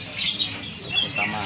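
Perkutut (zebra doves) call at a crowded bird venue, with short bright chirps and tweets rising over a busy background murmur, fairly close and lively.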